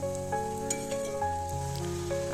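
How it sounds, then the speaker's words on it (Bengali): Luchi frying and puffing in hot oil, a continuous bubbling sizzle with light crackles, heard beneath steady background music. "তো তেলটা গরম হয়ে গেছে, দেখো লুচিগুলো কি সুন্দর করে ফুলছে"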